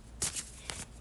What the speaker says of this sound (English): I'm going to pull in some astro cards to see the last part of your mom's message for you.